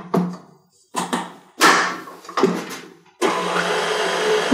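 An electric mixer blends flour into cinnamon chocolate brownie batter, whirring in several short bursts separated by pauses, then running steadily for the last second and a half, loud and close.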